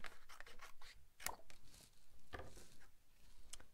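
Scissors snip through a paper card in a quiet room, a series of short, soft crisp cuts and rustles with a couple of sharper snips.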